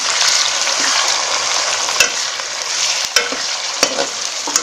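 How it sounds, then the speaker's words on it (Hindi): Meat for chicken white pulao frying in a pot: loud continuous sizzle close by, broken by several sharp scrapes and knocks of a spoon stirring against the metal, no voices. "इसे थोड़ी देर भूनेंगे"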